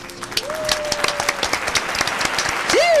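Studio audience applause at a radio show taping, with fairly close, uneven clapping that builds in strength across three seconds, joined by a few whistles and whoops.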